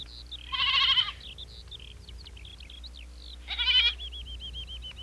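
Goats freed from ropes in an animated mountain valley give two loud, quavering bleats a few seconds apart, with scattered birdlike chirps and a low hum between them.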